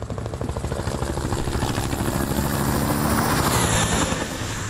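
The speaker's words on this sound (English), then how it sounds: "MI-8 helicopter. Russian made," A Russian Mi-8 helicopter in Hitman Absolution flies close by, its rotor thumping in a loud, steady, rapid chop over a dense engine roar, with no voices.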